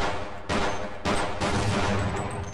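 Rapid gunfire from the video game Half-Life, dense overlapping shots and blasts in quick bursts, loud and continuous with sharp onsets, with no talking over it.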